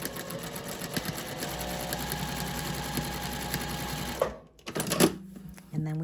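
A sewing machine stitches quilting lines across a fabric panel of a gift bag, a fast steady mechanical whir and clatter that stops after about four seconds, followed by a few clicks and a brief low hum.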